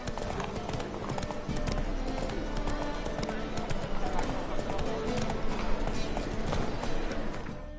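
Horse hooves clip-clop at a steady trot in The Witcher 3, a continuous rhythmic clatter under outdoor game ambience, with voices talking over it.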